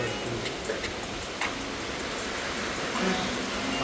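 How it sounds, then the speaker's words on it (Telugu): Heavy rain pours steadily outside, a dense wash of hiss with scattered ticks and patters from drops hitting surfaces, heard from indoors at moderate level. "చూడండి ఒకసారి బయట ఫుల్ వర్షం పడుతుంది అసలు"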